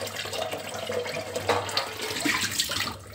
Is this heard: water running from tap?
yes